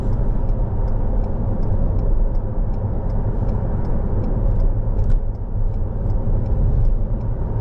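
A car cruises along the M5 motorway on a Sunday, a steady low road and engine rumble with tyre noise holding at an even level, with faint regular ticks above it and no talk.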